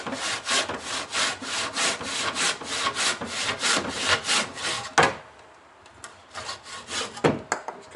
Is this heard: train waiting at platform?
no